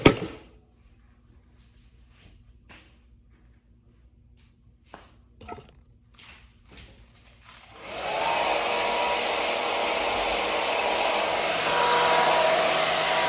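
A hair dryer blows hair during a Redken signature blowdry in a salon, starting after scattered quiet clicks and handling noises, then a loud steady whoosh that swells slightly near the end.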